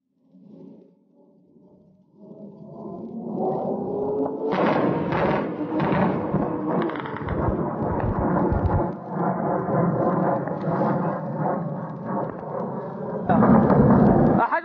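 Heavy booming blasts from warplane bombardment on a mujahideen brigade position, a sustained rumbling roar that swells and keeps rolling for seconds, with a further loud surge near the end and voices shouting over it.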